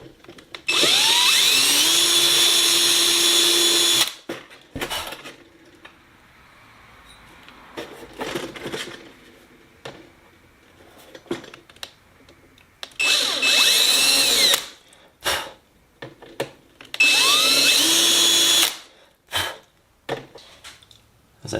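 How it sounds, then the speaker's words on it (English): Power drill whining in three long bursts, loud and close, drilling holes for brackets on a Sonex aircraft fuselage tail cone, with quieter handling clatter and short revs in between. "I'm going to go ahead and drill this out and attach these brackets where they go."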